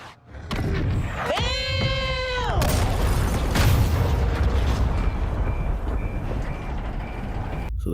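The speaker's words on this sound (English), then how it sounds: "All stations, prepare for the boom! Missile on the way." An incoming missile's rising mechanical whine gives way to a long, rumbling explosion in Call of Duty: Modern Warfare 2, with debris and roar trailing off while faint beeps sound.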